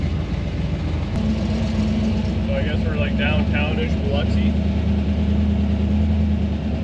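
A car's steady engine and road hum from inside while driving along the Biloxi strip at night during the Cruizin' The Coast event, with people talking over it throughout.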